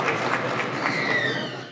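Members of the Turkish parliament applaud Devlet Bahçeli, Osmaniye MP, at the opening of the 26th term: steady dense clapping from a crowded chamber, with voices mixed in throughout.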